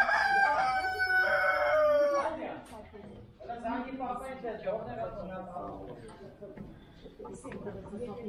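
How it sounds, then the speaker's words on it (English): A rooster crows loudly nearby in a rural Armenian setting, one long cock-a-doodle-doo at the start, followed by softer clucking as someone talks. "Rooster is telling us something."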